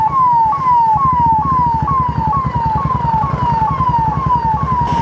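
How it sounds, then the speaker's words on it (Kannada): An ambulance siren wails on a monsoon ghat road at Agumbe, a loud, close, rapidly repeating falling tone over a steady vehicle engine rumble. "ಈಗ ಇಲ್ಲಿ ಟ್ರಾಫಿಕ್ ಉಂಟಂತ ಗೊತ್ತಾಯ್ತಲ್ಲ, ಇಲ್ಲಿ ಸೈರನ್ ಹಾಕ್ತಿದ್ದಾರೆ"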